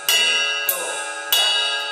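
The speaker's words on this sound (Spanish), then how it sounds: "Sería alternar un golpe en la campana, ya sabes que es con tu cuello de la baqueta, y luego uno con el cuerpo." Drum-kit bell struck with the neck of the stick, alternating with strokes on the body: three bright, loud, close metallic hits roughly 0.6 seconds apart, each ringing out with a long shimmering decay.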